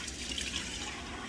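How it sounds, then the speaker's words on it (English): Water runs steadily from a kitchen tap while a tuna can is rinsed out beneath it, a soft continuous splash and trickle at close range with no talking. "What you're hearing now is me washing out the tuna can."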